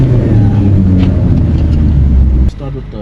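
A Maserati being test driven on the road: a steady, loud low engine and road rumble fills the inside of the car, then drops suddenly to a quieter hum near the end.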